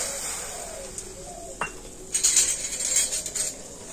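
Sugar tipped from a bowl into a pan of water for syrup, giving a brief gritty pour and soft clinks of the bowl against the pan, faint and close, with a light sizzle and rattle following.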